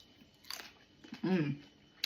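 Someone takes a bite of Korean kale salad and chews it, giving a few crunchy, wet bites close to the mic in a quiet room, with a brief vocal sound among them.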